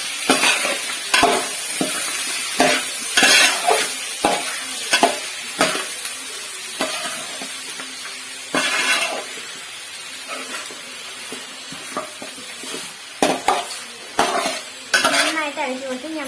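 A spoon scrapes and stirs chicken with turmeric and salt in a pan for chicken curry, with close, repeated irregular strokes over a steady soft sizzle and no talking.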